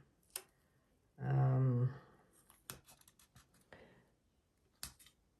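Tape is pulled from its roll and pressed onto a vase before painting. A short, loud, screechy rip of about half a second comes first, followed by scattered light taps and clicks as it is smoothed down.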